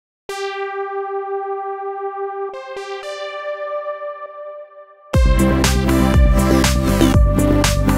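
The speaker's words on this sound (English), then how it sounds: "We can add some reverb to the lead sound." Sustained VPS Avenger 2 synthesizer lead notes ring out with a lingering reverb tail, changing pitch a few times, before loud, dense drums and synth crash in.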